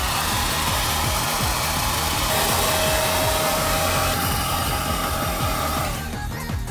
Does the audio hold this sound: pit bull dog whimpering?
no